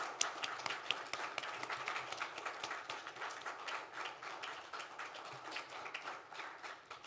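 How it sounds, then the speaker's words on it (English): An audience claps for the panelists at a renters' survey discussion event, steady applause from many hands, faint and distant. "let's give a big round of applause to our panelists"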